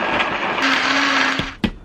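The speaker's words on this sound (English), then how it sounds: "We're gonna blend this up really well" A blender whirs loudly and steadily while blending liver cake batter, running for about a second before a sharp knock and a quick stop.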